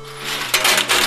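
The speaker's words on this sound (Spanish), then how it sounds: "Buena cantidad de monedas" Coins clatter out of a 10-peso slot machine payout in a quick, bright metallic burst that swells in several loud rushes over a steady electronic hum.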